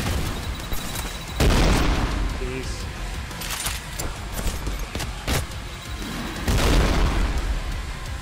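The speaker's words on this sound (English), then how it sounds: "Trying to throw a nade at my feet." Grenade explosions in the video game Trepang2, two heavy booms a few seconds apart over ongoing combat noise and scattered bangs, with speech heard over it.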